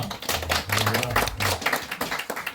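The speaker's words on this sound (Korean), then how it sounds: "하나님께 영광 박수 드리겠습니다" A church congregation at an Easter Sunday service claps in praise, with sharp, distinct hand claps in a quick, uneven rhythm close by, while a low hum and faint voices sit beneath.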